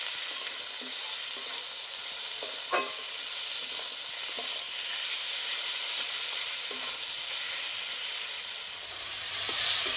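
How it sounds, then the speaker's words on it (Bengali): Chopped tomatoes and onions with a spoonful of salt fry in a pan, a steady bright sizzle and hiss with occasional soft scrapes and clicks of stirring throughout. "টমেটো আর পেঁয়াজ ভালো করে ভেজে নিয়েছি"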